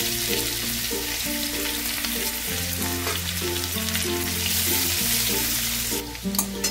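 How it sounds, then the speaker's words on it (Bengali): Chopped garlic and white cumin seeds fry in hot oil with a steady, dense sizzle that runs unbroken throughout, close and fairly loud, with no speech and a faint stirring texture underneath. "এবার দিয়ে দেবো দেখো 1 চামচ রসুন কুচি"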